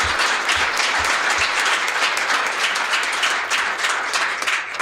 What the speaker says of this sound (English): So please give a round of applause to our panelists.